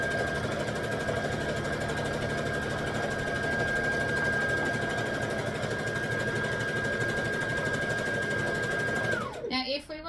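A sewing machine runs steadily while stitching a wrap skirt seam, a close, even mechanical whir that holds for about nine seconds, then stops as the machine winds down.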